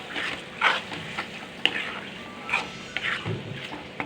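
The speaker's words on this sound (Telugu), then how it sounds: "కొబ్బరి వేసుకొని కలుపుకోవాలి సిమ్లో పెట్టుకొని" Ground coconut being stirred into a simmering curry in a pot, with soft scraping strokes and gentle bubbling, plus a few brief clinks of the spoon against the vessel.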